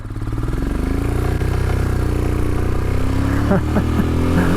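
A Royal Enfield Himalayan motorcycle riding on a snowy road on Red Mountain: a loud, steady, close engine drone with rushing wind, holding a constant pitch throughout.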